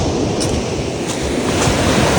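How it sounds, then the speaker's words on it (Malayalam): Ocean waves wash onto a pebble beach in Oman in the evening, a loud, close, continuous roar of surf. Wind rumbles into the microphone beneath it. "തിരമാലകൾ"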